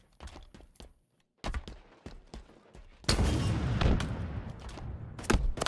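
Gunfire in a Halo video game match: sharp single shots in short bursts, then a loud sustained barrage of blasts and explosions with a few final cracks, no talk.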